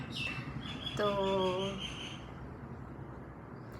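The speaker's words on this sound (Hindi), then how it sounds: "चिड़िया की आवाज़ है" A bird chirps a few clear, high notes in the background, with a brief spoken word near the start.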